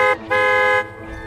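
A truck horn honks in a film scene at night, giving a short blast, a brief gap, then a longer sustained tone, loud and close with no talk over it.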